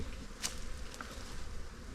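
A swarm of African bees in a hive inside a pool pump gives off a soft, continuous buzzing drone, faint and steady, with a couple of brief sharper clicks.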